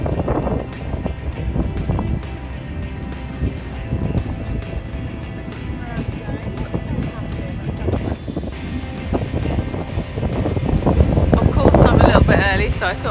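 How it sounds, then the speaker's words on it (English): Strong wind buffets the microphone outdoors in windy rain, a loud continuous rumble with gusts that swell toward the end. "Oh, I bet you hate windy rain,"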